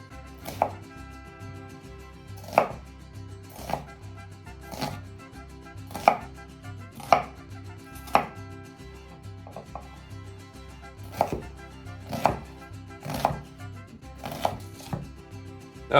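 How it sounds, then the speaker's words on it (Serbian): A knife chops an onion into cubes on a board, sharp regular cuts repeating about every second, close and distinct with no talking. "Sada ćemo da iseckamo crni luk na kockice, onako klasika, standardno."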